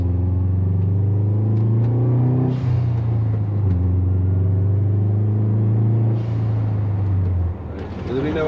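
A 2004 Subaru Forester XT with a GFB hybrid blow-off valve, heard from inside as the engine hums and accelerates, with brief airy whooshes of the turbo valve venting as the throttle lifts, plus a low steady drone.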